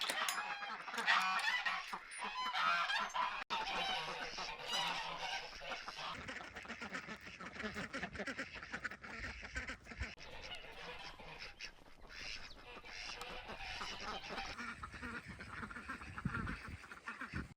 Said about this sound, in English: I'm just over here by my ducks. Let's see if we can get the duck parade going.